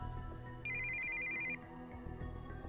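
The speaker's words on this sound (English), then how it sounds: "we heard the sound of an incoming call on a cell phone." Cell phone ringtone in Steins;Gate 0, a bright sustained electronic tone sounding for about a second over a low melodic game soundtrack, fairly quiet with no talk.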